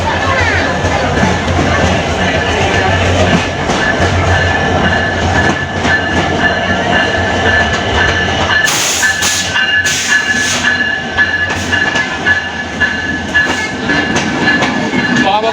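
A train on the Jashore to Khulna rail route rolls along with a loud, continuous rumble and rattle of carriages, rhythmic wheel clacks and squeaks heard from inside, with voices faintly under the din.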